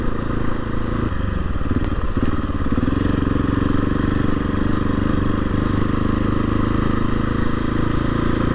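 A 2024 KTM 690 SMC R motorcycle with teething problems, heard from the rider's position, gives a loud, continuous engine drone under rushing wind, with a brief rougher patch early on before it settles into an even pull.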